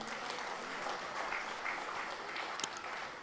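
An audience at a political speech applauds, a steady, fairly distant patter of many hands clapping throughout.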